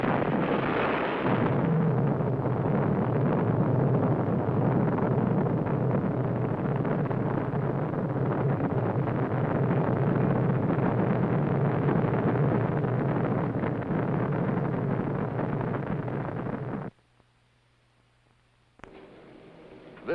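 A Polaris ballistic missile launches from the submarine George Washington as a sustained loud roaring rumble that holds for about seventeen seconds, then cuts off abruptly into near quiet.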